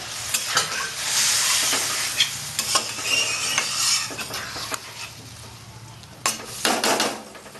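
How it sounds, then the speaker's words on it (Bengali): Potatoes frying in a pan for an ilish fish curry sizzle loudly as water is added a little at a time, with steady hiss and repeated spatula scrapes and knocks against the pan. "এবার আমি একটু একটু জল দেবো দিতে হবে"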